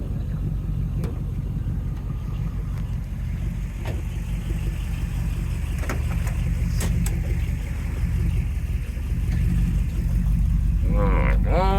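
Restored 1969 Camaro Z28 with its original DZ302 V8 and five-speed pulling away, a steady loud low engine rumble filling the clip and swelling slightly near the end, heard from inside the car.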